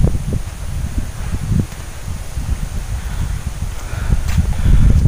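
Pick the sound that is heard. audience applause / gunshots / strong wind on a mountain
strong wind on a mountain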